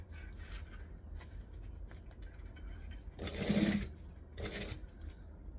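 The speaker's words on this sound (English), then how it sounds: "Stitch, back stitch. I'm top stitching at 1/8 of an inch." A sewing machine topstitches a backpack, faint steady background hum with two louder whirring runs of stitching close by near the end.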